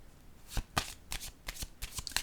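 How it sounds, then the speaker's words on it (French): Oracle cards being handled and laid down on a surface during a reading, a series of soft, quiet flicks and slaps spaced irregularly, close and dry with no talk. "Je vais déposer une autre carte ici."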